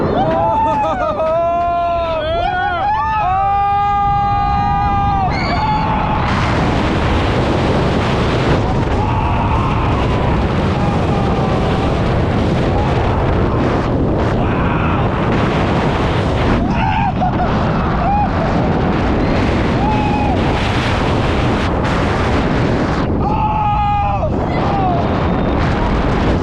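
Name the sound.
roller coaster ride at Carowinds, front row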